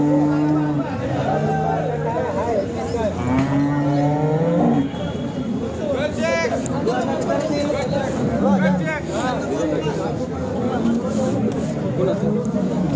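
Cattle at the Sangola market, including HF dairy cows, give low lowing calls amid a busy crowd, with people talking loudly nearby throughout.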